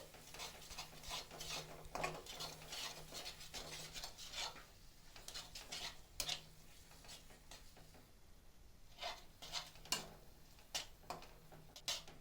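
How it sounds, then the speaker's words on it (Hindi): Boiled peas being stirred into a cooked masala in a pan, with repeated soft scraping and rubbing strokes of a spoon over a faint steady sizzle, quiet and close without talk. "अब हम इसमें अपने बॉईल किए हुए मटर ऐड करेंगे और इन्हें अच्छे से मिक्स कर लेंगे।"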